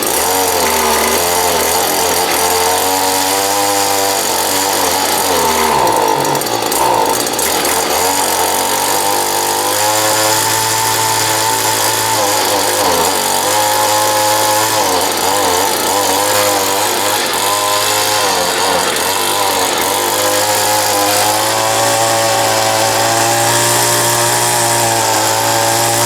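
A gas string trimmer engine runs at full throttle, loud and close for the whole stretch. The high-pitched buzz holds steady, with a slight wavering and brief dips in speed.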